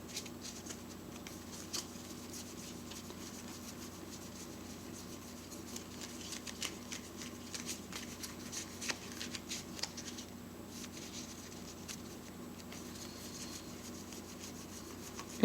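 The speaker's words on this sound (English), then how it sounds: "This is the way that I shuffle." Soft, steady tarot card shuffling, a continuous papery patter and rubbing with brief louder riffles, close by and quiet, with no talking.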